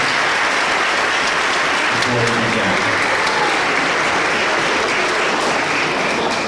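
A large audience at an elementary school orchestra concert claps steadily for several seconds, a dense continuous wash of applause, with a brief voice speaking underneath.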